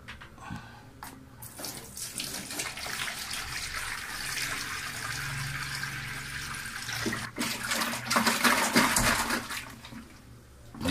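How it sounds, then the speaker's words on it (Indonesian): Water pours steadily into a container, a continuous splashing flow that swells louder near the end, with faint handling knocks. "Oke, kita tuang airnya nih."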